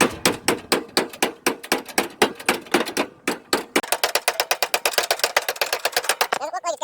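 Hammer striking a metal part on a lawn mower in a cramped spot, a rapid series of sharp metallic blows at a fairly even rhythm, speeding into a tighter flurry of hits toward the end.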